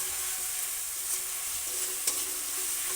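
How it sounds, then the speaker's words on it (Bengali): Sliced onions fry in hot oil with a pinch of salt, a steady bright sizzle with light stirring scrapes and one sharp clink, close and alone without any voices. "দেখো, আমার পেঁয়াজটা ভাজা হয়ে গেছে।"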